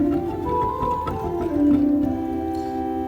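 Pipe organ played on its Gemshorn stop, producing soft, sustained, slightly hollow tones with a gently shifting melody line over a steady chordal backdrop, heard alone.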